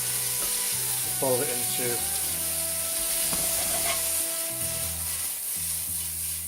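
Sausage meat frying in a pan for a breakfast burrito, giving a steady close sizzle throughout with a few scraping stirs, while a voice speaks faintly over it.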